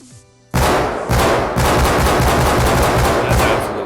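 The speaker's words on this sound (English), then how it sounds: "we've got the new rifle in action, so I'm just going to let that one kind of speak for itself here for a second" The new LR300 rifle in the video game Rust fires sustained full-auto bursts, loud and close, with rapid rattling shots in several long strings separated by short gaps after a quiet opening.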